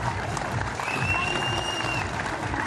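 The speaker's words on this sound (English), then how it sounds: "Give a big round of applause one more time," A crowd applauds medal winners on stage at a STIHL Timbersports Australian championship, a thick, sustained wash of clapping and cheering, with a faint whistle-like tone drifting through the middle.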